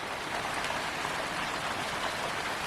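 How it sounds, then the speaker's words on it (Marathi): Light rain falls steadily over a Konkan village, an even, close hiss of drops with no voices present. "आज जरा पाऊस आहे, बऱ्यापैकी आहे"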